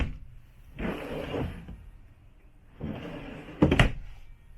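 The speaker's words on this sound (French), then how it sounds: "On a également 2 tiroirs ici au bas" Two drawers low in a 2021 Jayco Redhawk 24B RV slide open one after another, each a soft close-range rumbling glide, the second ending in a sharper knock.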